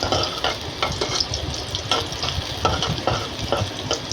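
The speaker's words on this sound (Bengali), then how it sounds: "এখন চালগুলা নাড়াচাড়া করে ভেজে নিব" Kalijira rice stirred and fried with onion oil in a pan, a steady close sizzle with repeated scraping strokes of the spoon, no voices.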